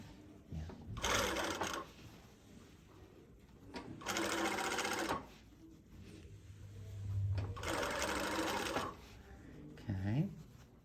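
A sewing machine stitches across the top of a fabric garment in three sustained whirring runs separated by pauses, with faint voices and small handling noises in the background.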